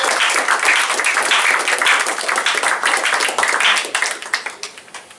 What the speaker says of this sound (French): est-ce qu'on est d'accord de les applaudir tous?